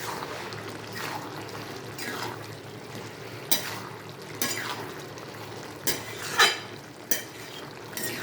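Cumin powder is stirred into a bottle gourd and prawn curry in a pan, giving soft, wet scraping and sloshing strokes at irregular intervals over a quiet background sizzle, with no speech.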